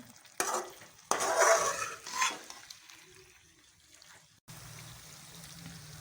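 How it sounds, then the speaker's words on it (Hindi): Black pepper chicken is stirred and fried in oil: a few loud bursts of scraping and sizzle early on, then a quieter fade and a low steady hum to the end. "अब इन तमाम चीज़ों को तब तक पकाएंगे जब तक ये ऑयल ना छोड़ दें"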